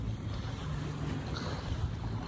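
An evening seaside scene, with swimmers, small sailboats and catamarans on the water, carries a steady wash of waves and soft wind at moderate volume, with no voices.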